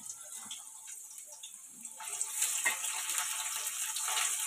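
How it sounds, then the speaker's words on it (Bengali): Water trickles and splashes as boiled soya chunks are squeezed by hand in a home kitchen, first faint and then a steadier, louder wet gush. "জলটা চিপে দিয়ে দিচ্ছি।"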